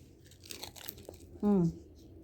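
A single loud crunch of biting into a crisp caramel apple egg roll lands close to the mic, preceded by quieter handling sounds and soft speech.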